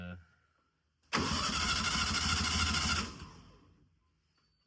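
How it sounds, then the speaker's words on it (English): A 1300cc VW Beetle engine from a 1963 car cranks over for about two seconds with a rapid, rhythmic churning, then stops without catching. "This engine turns over pretty easy"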